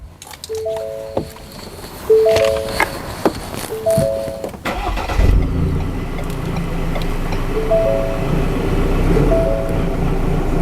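A modified-exhaust Ford Ranger pickup engine cranks and starts after some chiming and clicks, then settles into a steady, loud, low rumbling idle close by, with no talking.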